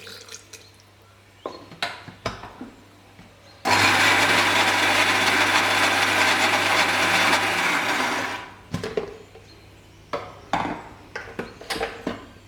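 A blender grinds green chili sauce paste with vinegar for about five seconds, a loud steady whir standing alone in the middle, with scattered kitchen clatter and knocks before and after.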